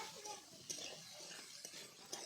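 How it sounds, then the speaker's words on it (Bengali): Okra frying in oil with turmeric and salt while being stirred, a steady close sizzle broken by a few sharp utensil scrapes and clinks against the pan. "হলুদ গুঁড়ো আর লবণ দিয়ে হচ্ছে ঢেঁড়সটাকে ভালো করে ভেজে নিতে হবে"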